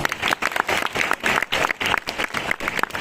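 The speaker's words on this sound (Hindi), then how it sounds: "तो एक बार अपने लिए ढेर सारी तालियां दें।" Steady, dense clapping from an audience at a live event, loud and continuous for a few seconds with no voices over it.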